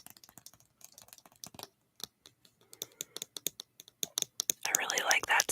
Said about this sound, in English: I really like that sound on the top of the lid.